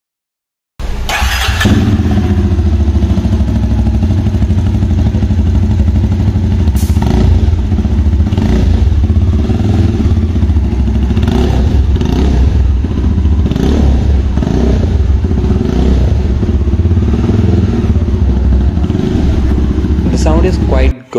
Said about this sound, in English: Now let's hear to the sound of this motorcycle.